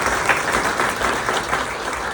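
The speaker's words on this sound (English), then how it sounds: "big round of applause to Pankaj" Applause from an audience for a business speaker, a dense steady clapping crowd filling the short moment at moderate distance.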